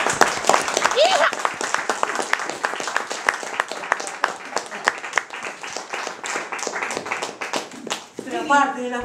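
Clapping during a live theatre comedy performance, with sharp, closely spaced claps running steadily under loud voices. A drawn-out vocal sound closes the passage.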